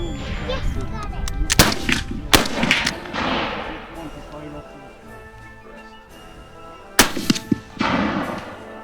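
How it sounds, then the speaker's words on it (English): Shots from an 1856 Enfield India Service Cavalry Carbine at an outdoor militaria shoot in Alberta: two sharp reports early and another pair near the end, with people talking in the background between them. "I finally had the opportunity to fire my 1856 Enfield India Service Cavalry Carbine"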